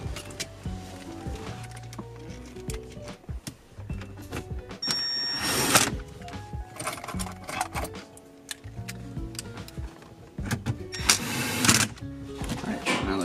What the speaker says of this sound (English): we're going to go ahead and screw in these two bolts here at the bottom.